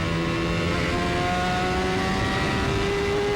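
IndyCar race car engine at Road America, the driver modulating the throttle, holding a steady loud droning tone with sustained harmonics throughout, close and alone.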